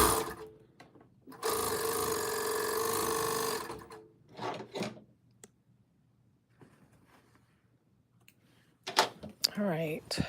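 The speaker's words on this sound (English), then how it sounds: "can actually serge off a little bit more, maybe." A serger trims and overlocks the hem of a pair of jeans in one loud, steady two-second run, followed by shorter bursts of stitching, quiet gaps and a voice speaking near the end.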